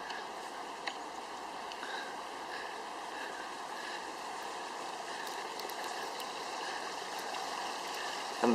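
Water running through a farm mill race, a steady broadband rush of flowing water that holds constant throughout, with faint wind and no voices.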